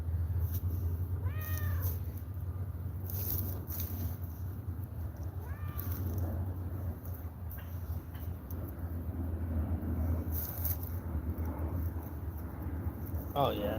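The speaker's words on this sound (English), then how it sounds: "He'll meow every time he sees me" A house cat meows a few times near a Kentucky fishing and outdoors livestream, its short rising calls sitting over a steady low hum and background noise.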